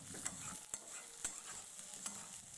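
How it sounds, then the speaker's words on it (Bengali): Potatoes cooked with spices over low heat for a Bengali pui shak and shrimp dish, a quiet continuous sizzle broken by several sharp spatula scrapes against the pan at irregular intervals. "এখন সেটাই মশলার মধ্যে দিয়ে মশলার সাথে আলুটা ভালো করে কষিয়ে নেব।"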